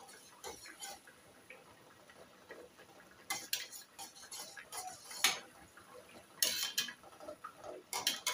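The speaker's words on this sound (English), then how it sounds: "Stir it while you are still melting the hard oil." Hard oil being stirred in a pot while it melts for a homemade edge control hair pomade, giving light utensil ticks and scrapes against the metal, faint at first, then louder clustered clinks.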